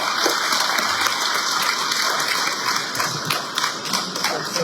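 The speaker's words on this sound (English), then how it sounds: "big round of applause once again for Omar Aleem" Audience at a boxing press conference applauds Omar Aleem, a dense, steady patter of clapping across the room with no speech over it.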